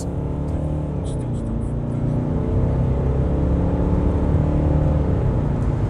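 A 2011 Mercedes C220 CDI W204 diesel accelerates up an on-ramp, its engine drone rising steadily under road and wind noise from inside the cabin, with a voice talking over it.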